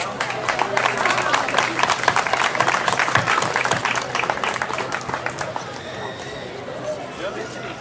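An audience applauds young sailors at an outdoor regatta ceremony on a stage, clapping steadily and fairly close throughout, with a voice talking over it.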